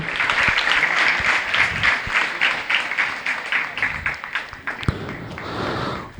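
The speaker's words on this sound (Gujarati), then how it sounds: "જોરદાર તાળીઓ બધા માટે" A crowd at a school scholarship ceremony claps loudly and continuously for students, a dense sustained applause that holds for several seconds before thinning toward the end.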